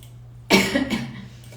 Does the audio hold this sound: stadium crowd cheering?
no